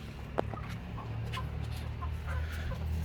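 Pure Aseel chickens on a farm in Bawal Nagar give a few faint, scattered clucks over a constant low background hum.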